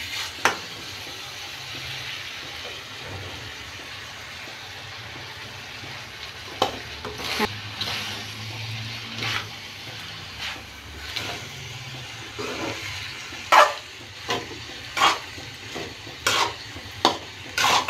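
Schezwan fried rice stir-fried with sauces in a pan, a steady sizzle under repeated scraping and clattering of a spatula against the metal, the strokes growing louder and sharper toward the end.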